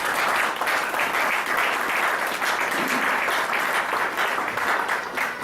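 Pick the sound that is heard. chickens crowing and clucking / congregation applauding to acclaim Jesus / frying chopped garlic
congregation applauding to acclaim Jesus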